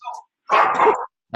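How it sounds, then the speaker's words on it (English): Dogs bark at close range indoors in two loud bursts, a short yelp followed by a longer run of barking, with a further bark starting at the end. "I've got to get rid of my dogs. They're making lots of noise."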